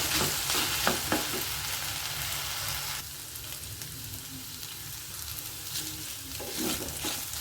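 Okra frying in oil for an Udupi-style gojju, with a steady close sizzle and intermittent stirring scrapes in the pan, loud and continuous.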